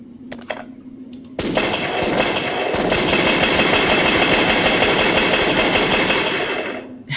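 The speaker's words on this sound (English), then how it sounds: "How has he survived so many bullets?" Rapid automatic gunfire in the Torture Game 2 video game, a dense continuous rattle of bullets that starts after a few faint clicks and keeps going loud for about six seconds.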